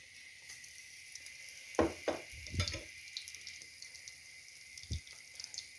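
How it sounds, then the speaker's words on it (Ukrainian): Quiet sizzling of zucchini in flour batter frying in a pan, with a few louder knocks and scrapes of utensils against the pan. "Ну, так, зараз буду смажити."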